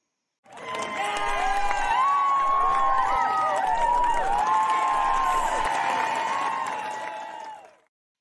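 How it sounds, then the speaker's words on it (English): A studio audience at a talk show welcomes a guest with steady, loud applause that lasts about seven seconds, with whoops and cheers rising above the clapping before it fades out. "Let me welcome and give a big round of applause for Mr. Vic Gallucci."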